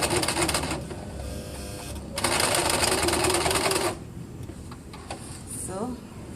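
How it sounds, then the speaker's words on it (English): A sewing machine runs a straight stitch through fabric during a dressmaking class, with two steady, loud bursts of fast mechanical whirring and clatter separated by a pause, followed by quieter handling noise and brief talk. "Just guide the fabric correctly into the machine."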